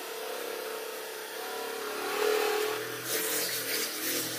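Electric fascia massage gun in its increasing mode, its motor whirring and rising in speed; a quiet, close mechanical hum that climbs in pitch and grows busier toward the end.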